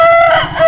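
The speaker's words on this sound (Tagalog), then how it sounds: "kasi nga si Gardo Versusa, may mga manok siya." A rooster crows loudly and close by in one sustained, wavering call with a strident tone, alone and with no voices.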